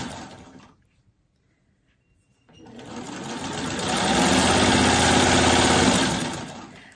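A sewing machine runs in one steady, close burst of several seconds, stitching quilt block fabric scraps together, after a brief pause of near silence and light handling.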